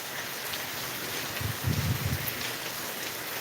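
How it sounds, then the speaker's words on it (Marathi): Steady heavy rain falling through the night in Latur, Maharashtra: a soft, continuous wash of rainfall at moderate distance, with a faint low murmur briefly rising in the middle. "सतत धार असा पाऊस आहे"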